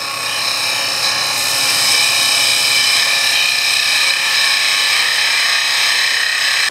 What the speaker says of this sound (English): I'm just changing to a spindle gouge to finish the cut.